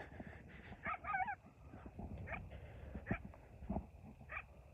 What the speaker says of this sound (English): It sounds like a dog.